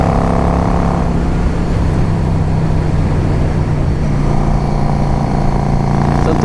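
A 2005 Yamaha V Star 650 motorcycle engine drones loudly and steadily while riding, with a shift in engine pitch about a second in and constant wind buffeting throughout.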